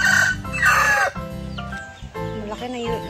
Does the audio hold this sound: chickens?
yes